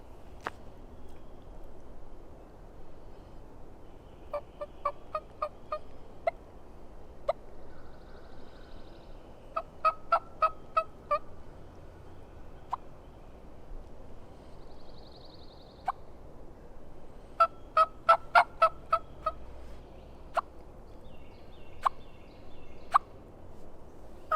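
Soft light bubble clucks and short bursts of yelps from a turkey call come in scattered clusters, imitating a hen waking on the roost, fairly quiet against low background noise.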